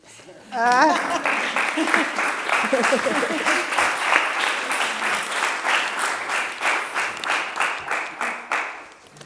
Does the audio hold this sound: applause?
yes